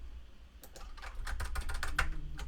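Fingers type on a computer keyboard while writing JavaScript code, a quick run of close, crisp key clicks that starts after a brief pause and continues to the end.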